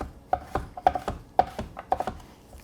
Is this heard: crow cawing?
no